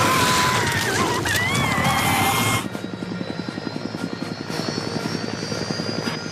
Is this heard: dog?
no